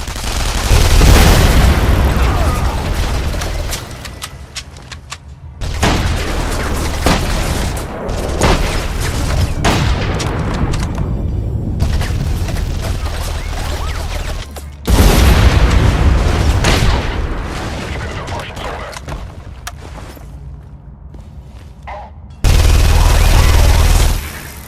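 Heavy gunfire and booming blasts in The Saboteur as snipers shoot from above, loud volleys of cracking shots with sudden deep impacts recurring in clusters across a long stretch of combat.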